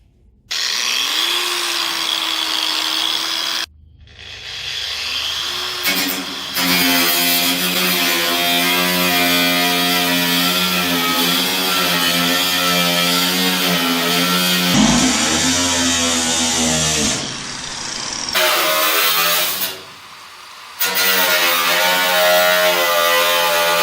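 Power tool cutting into the metal hood of a Jeep YJ to fit a louver, a loud close whining buzz running steadily with brief stops and restarts as the cut continues.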